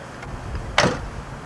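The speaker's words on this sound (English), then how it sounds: "Close the door." The door of an old toy is shut, a single short plasticky clunk with a quick scrape, close-up against low background noise.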